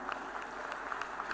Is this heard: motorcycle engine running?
no